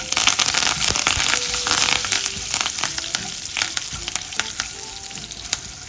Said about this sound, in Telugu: ఇంకా కరివేపాకు ఎండుమిరపకాయలు వేసుకుంటున్నాం